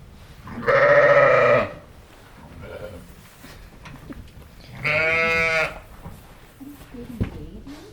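Two loud, close Border Leicester sheep bleats, each about a second long and separated by a few seconds of quiet farmyard background.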